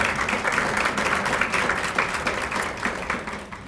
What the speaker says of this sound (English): Let's give Mary Jo some applause for our excellent meal.